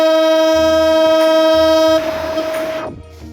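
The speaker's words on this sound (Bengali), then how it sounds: "আটশো চার ডাউন বাংলা বান্দা এক্সপ্রেস পাঁচ বিবি রেল স্টেশনের এক নম্বর লাইন থেকে এই মুহূর্তে ছেড়ে যাচ্ছে রাজশাহী অভিমুখে" The 804 Down Banglabandha Express pulls away from line one at Panchbibi railway station toward Rajshahi, sounding a loud sustained multi-tone horn for about two seconds, then a nearby rumble and clatter of the moving train that fades.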